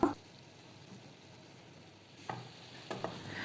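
Onions, peppers and garlic fry quietly in a pan, a soft, steady sizzle near the mic broken by a few scraping stirs partway through.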